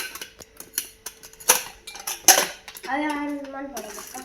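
Dishes and utensils are handled during washing at home, with scattered clinks and clatters of metal vessels and cutlery, a few sharper knocks, then a brief tonal scrape near the end.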